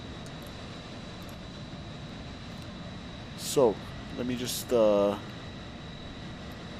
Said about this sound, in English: is it just me, or are the background like VATSIM airplane sounds today extra loud?